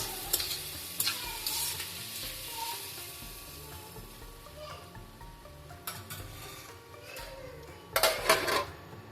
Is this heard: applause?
no